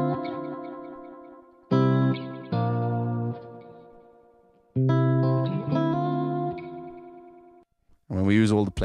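Pulsar Echorec tape delay with several playback heads combined, giving bursts of repeated, smeared tones that swell and fade in turn, ending on a rising warbling burst; no talk over the effect.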